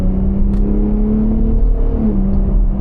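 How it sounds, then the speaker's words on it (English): A Gen 3 Ford Raptor pickup truck accelerates in quiet exhaust mode, revving up with a steady, low exhaust drone that rises slightly in pitch, fairly close and moderately loud. "Give it some acceleration, see how it sounds."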